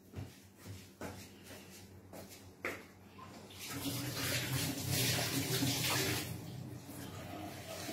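Water runs from a kitchen tap onto hands being washed, starting with a few soft clicks and splashes, then settling into a steady close hiss of flowing water.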